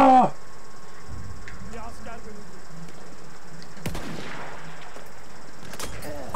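A sniper rifle cracks once, sharp and loud, midway through a Battlefield 1 match, with other distant shots and a steady battlefield rumble underneath.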